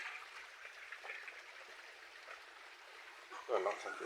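Water flows steadily into a cemented concrete pig pen, a faint continuous rushing trickle with a brief louder splash near the end.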